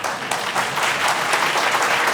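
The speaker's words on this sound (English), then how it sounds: "Please hold your applause, everybody." Audience applause at a Democratic gubernatorial debate, a loud, dense burst of clapping from a crowd lasting a couple of seconds without pause.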